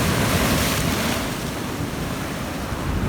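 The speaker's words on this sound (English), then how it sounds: "The ocean" Ocean surf washes against an island shore in a steady, loud broadband rush mixed with wind buffeting the microphone, continuous and close with no voices.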